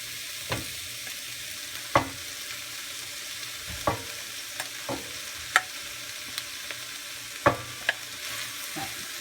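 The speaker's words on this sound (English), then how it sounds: "now it's time to add the cauliflower" Cauliflower sizzles in a hot pan, a soft steady frying hiss broken by about a dozen sharp clacks and scrapes of a spoon stirring at irregular intervals, close by with no talking.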